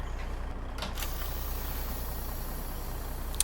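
Zeemod N14 truck engine sound mod in an American truck simulator game, a steady loud diesel rumble idling without pause, with a brief air hiss near the start and a faint click at the end.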